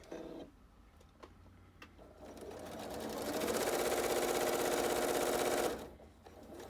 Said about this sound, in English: Now I'm going to be sneaky and chain stitch all of this like I normally do